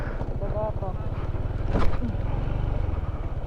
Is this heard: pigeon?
no